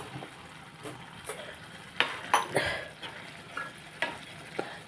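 A spoon scrapes and clinks around a pan of netthallu curry with boiled, cooled milk, giving a handful of sharp, close knocks over a soft background sizzle, with no talking.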